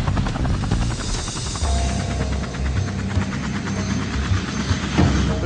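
A helicopter coming in to land on top of Kulen Mountain, its rotor thudding loud and steady with a continuous engine roar throughout.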